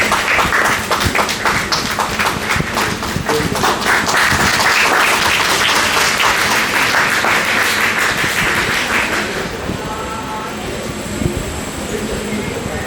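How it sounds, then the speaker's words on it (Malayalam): Wedding guests applaud the newlyweds, Mr. and Mrs. Shaji, at a church ceremony. Dense, sustained clapping fills the hall for several seconds, then thins and fades into quieter room sound. "ആ സമയത്തും കൈയടിച്ച് അവരെ പ്രോത്സാഹിപ്പിക്കണം"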